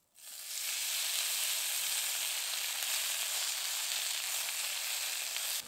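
Radish greens drop into hot oil with frying green chillies and garlic, bursting into a loud, steady sizzle that starts abruptly and holds evenly, close up, with no voices.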